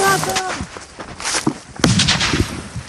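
A live grenade blast goes off during assault training by National Guard soldiers with combat ammunition, a sharp loud burst after shouted commands, with scuffling movement and voices around it.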